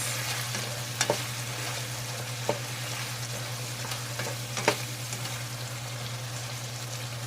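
Chopped tomatoes with meat sizzle steadily in a pan, a constant frying hiss broken by a few sharp clinks and scrapes of stirring, with no talking.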